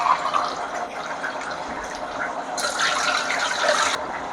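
Water poured into a steel tumbler in a home kitchen to measure it for mutton biryani with seeraga samba rice, a steady splashing fill that swells louder and brighter midway, then eases off, with no talking.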